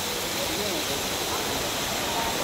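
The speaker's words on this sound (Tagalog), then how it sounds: "Waterfall!" A waterfall in a botanic garden roars steadily and densely, a close, even wash of rushing water with no breaks.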